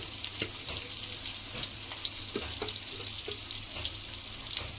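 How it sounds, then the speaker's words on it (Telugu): Cooking oil poured into a pan on the stove before adding green chillies and onions for a Telugu cucumber and chicken curry, a steady faint pouring hiss with light clinks, no talk. "ముందైతే నూనె పోసుకుందాం."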